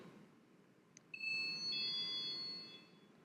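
Just after being armed, an Arduino-based alarm gives out a high electronic tone, faint and steady for about a second and a half over quiet room hiss.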